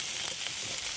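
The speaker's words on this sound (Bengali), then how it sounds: "প্রথমে পেঁয়াজ রসুন ভেজে নিয়েছি, দিয়ে একটু ভালো করে কষে নিচ্ছি সব রকম দিয়ে।" Onion and garlic fry with spices in a pan for a light potato and papaya curry, giving a faint, steady sizzling hiss without a break.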